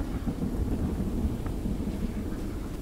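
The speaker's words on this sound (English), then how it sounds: "Going into a storm." A steady, rumbling thunderstorm in the Choo-Choo Charles video game, with dense low rain and wind roar heard while riding a train, continuous and fairly loud throughout with no voices.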